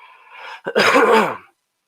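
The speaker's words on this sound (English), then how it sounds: "This cough is still just a little annoying." A single harsh cough with a throaty rasp, close and fairly loud, preceded by a short breath and followed by silence.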